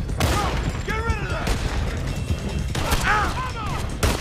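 Gunshots crack out in Red Dead Redemption 2 during a horseback ride, a few sharp reports over rumbling hoofbeats and game noise, with voices talking through the scene.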